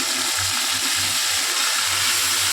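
Small splash of water tipped from a bowl into a pan holding ginger and green chilli paste, a brief soft gush and faint sizzle, close and alone.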